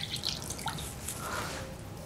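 Water being added to strawberry powder and oil in a kitchen gives faint, close dripping and trickling sounds, quiet and with no talking.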